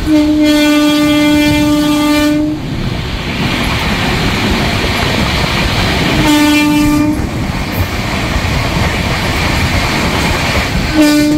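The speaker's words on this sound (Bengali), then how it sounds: "train number 12883 Rupasi Bangla superfast express Santragachi two Purulia junction" The Rupasi Bangla Superfast Express, train 12883 from Santragachi to Purulia, roars past loud and close, its horn blaring in long blasts over the constant rush and clatter of the wagons.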